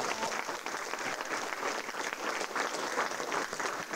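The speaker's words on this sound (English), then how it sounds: "And let's give them a round of applause." Steady applause from the audience at a Democratic city committee breakfast in Brockton, a dense even patter of many hands sustained for the full stretch, moderately loud and without break.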